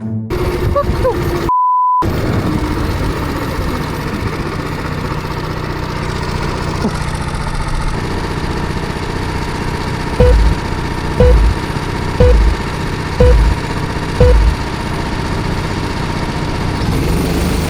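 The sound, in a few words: racing kart engines at the start of a race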